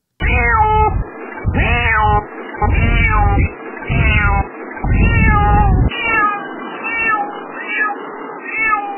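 A cat meows repeatedly, about eight loud, close drawn-out calls in quick succession, some rising and wavering like caterwauling, with short gaps between them.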